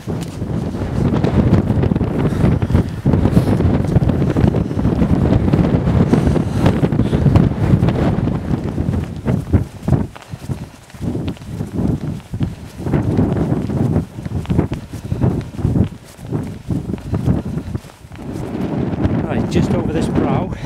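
Wind roars and buffets against the microphone on an exposed hill walk up Moel Famau, strong and continuous at first and then gusting in uneven bursts, with a person talking over it.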